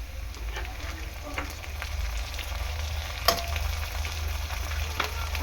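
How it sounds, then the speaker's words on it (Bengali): Chicken kosha frying in a pan, a steady close sizzle and crackle with occasional sharp pops and stirring scrapes, continuous throughout with no voices. "তো এখানে চিকেন কষা হচ্ছে"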